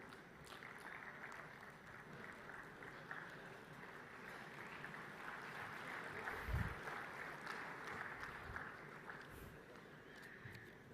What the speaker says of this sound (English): A big round of applause, ladies and gentlemen, for our keynote speaker.